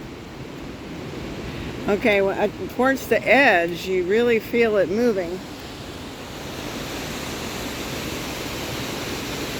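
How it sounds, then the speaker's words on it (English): Steady broad rush of water far below a swaying suspension bridge near a waterfall on a camping trip in Vancouver, BC, a constant roar with wind buffeting the microphone, and a person talking briefly over it. "The water's rushing down below."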